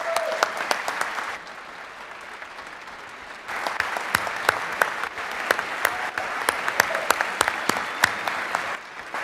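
Applause in a state legislative chamber during a session, sustained clapping with sharp individual claps standing out, briefly dipping then swelling again to full volume.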